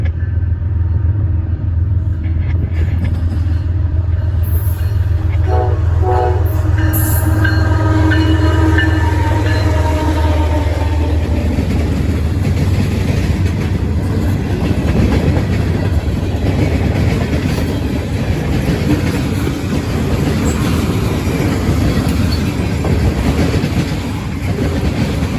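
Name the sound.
CSX M560 freight train passing with horn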